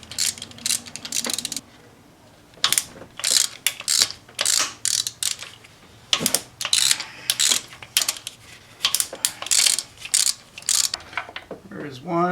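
A ratchet works spark plugs loose on a Chrysler PT Cruiser, with quick bursts of close, loud metallic clicking separated by short pauses.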